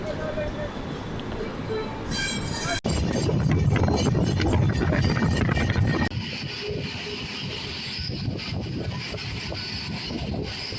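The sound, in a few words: passenger train departing from a railway station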